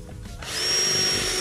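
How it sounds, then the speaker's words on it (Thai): Power drill boring drainage holes into a large plant pot, the motor spinning up after a brief quiet start into a steady, close whine that holds to the end. "จะเจาะรูเพื่อ ให้เป็นที่ระบายน้ำนะคะใช้กระถางใหญ่เลยค่ะ"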